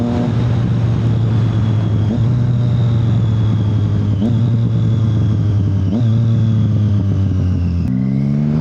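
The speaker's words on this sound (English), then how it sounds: "I'm going to teach you how to upshift fast like this." A motorcycle engine revs hard and loud through several quick upshifts made without the clutch, its pitch climbing and then dropping sharply at each change, about every two seconds.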